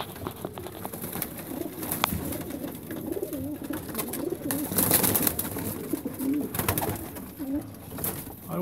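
Long-distance racing pigeons coo repeatedly at close range, soft low throaty rolls recurring through a steady bird-filled background, with no talk.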